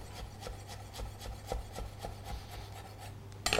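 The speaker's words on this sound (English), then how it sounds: "chop that coriander and just sprinkle over the soup for the last minute freshness of flavour" Fresh coriander being finely chopped with a knife on a board, a steady run of quick, soft rhythmic taps and scrapes, close and fairly quiet, ending with a sharper clatter.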